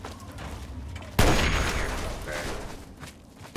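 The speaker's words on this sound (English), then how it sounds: "Who's shooting me?" Gunfire erupts suddenly in the Fallout 3 video game, a loud dense burst of shots that hits at once and then tails off over a few seconds, aimed at the player.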